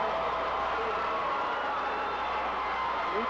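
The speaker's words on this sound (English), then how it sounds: "You hear the Milligan crowd" Milligan basketball crowd at a 2002 Class D2 boys state tournament game reacting to a missed free throw, a steady, distant wash of murmuring and noise throughout with no clear peaks.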